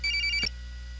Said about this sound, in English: Oh, it's Nanami's cell phone.